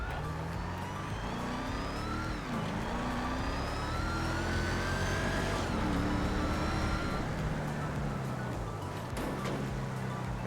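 A twin-turbo Dodge Demon V8 in the video game GTA V, its engine droning loudly and continuously with rising and falling revs across the stretch, under a dense, steady mix of game noise.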